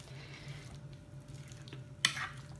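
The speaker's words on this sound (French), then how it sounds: "Je vais quand même mélanger, bien mélanger." A cauliflower and pea tagine is stirred in a pot, giving a faint, steady scraping and shuffling close by, with one sharper clink of the utensil against the pot near the end.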